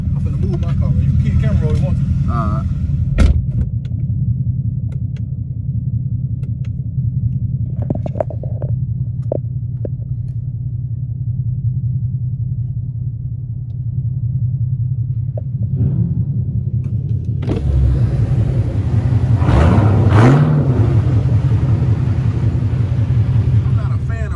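A Ford Mustang 5.0 idling in the rain with a deep, steady low rumble throughout, a brief louder rev near the end, and occasional light clicks and rain hiss over it.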